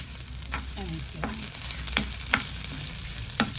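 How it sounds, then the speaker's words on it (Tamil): Dried red chillies, garlic and onion fry in a pan for chutney, with a steady close sizzle and a few sharp clinks and scrapes of stirring at irregular intervals, and no voices. "உள்ளி வெங்காயம் வதக்கப்பட்டால் காணும்."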